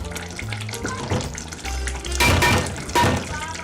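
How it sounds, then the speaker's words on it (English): Loud sizzling and crackling of Egbo stew frying in a pot, with bursts of hissing that swell and fade as it is stirred. "Yeah, it's frying. As you can see, it's frying."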